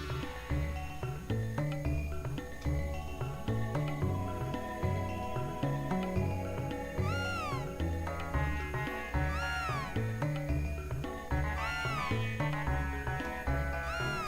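Cat meows in the Chrono Trigger video game, a few short rising cries heard faintly over loud, continuous rhythmic game music.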